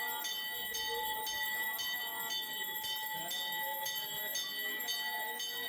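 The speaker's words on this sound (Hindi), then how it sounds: "मैं ज़ोरों से घंटी बजा बजा के बजरंगबली की आरती कर रही हूँ।" A small hand bell rings rapidly and continuously during a Hanuman aarti puja, bright and metallic, with regular pulses in the ringing and no talking.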